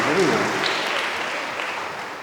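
During a church sermon, the congregation claps in a steady, broadband wash of applause that slowly tapers, while a voice speaks over it.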